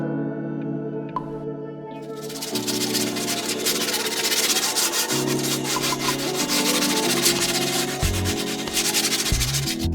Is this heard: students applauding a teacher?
no